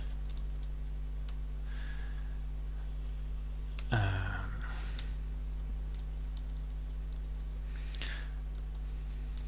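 Keystrokes on a computer keyboard while writing Delphi code, faint, sparse clicks beneath a steady electrical hum, with one louder clatter near the middle.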